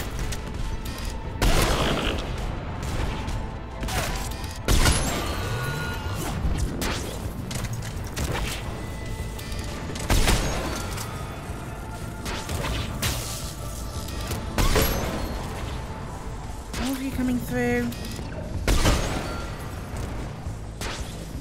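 Gunfire in the sci-fi shooter Mass Effect, with repeated bursts of weapon fire and booming impacts over a constant dense rumble of combat, loud and busy throughout.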